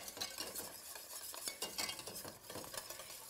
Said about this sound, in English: Give it a nice whisk.